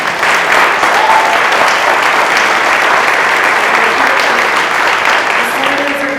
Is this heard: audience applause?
yes